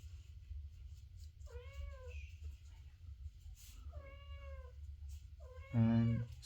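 A cat meows three times indoors, each call a clear drawn-out cry, the last one louder and closer, over a steady low background hum.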